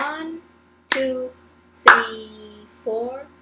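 Sharp hand claps land on a slow, even beat, each one followed by a voice counting along between them.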